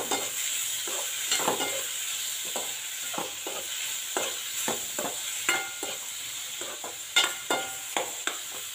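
Onion and tomato sauté in a pan for a kids' school lunch box dish, a low continuous sizzle beneath repeated scraping stirs and light utensil taps at an uneven pace, close and fairly quiet.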